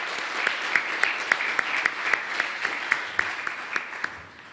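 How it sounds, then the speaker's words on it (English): A reception crowd claps warmly and steadily in a room, a dense even wash of hand claps with a few louder claps standing out, fading slightly toward the end. "We should give a round of applause again for doing this for us."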